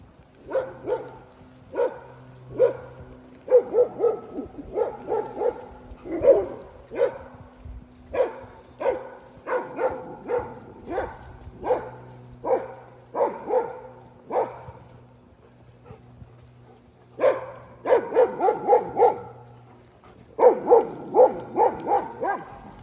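Several dogs bark and yip in irregular bursts while herding horses, some overlapping, with short pauses between flurries and a low steady hum underneath.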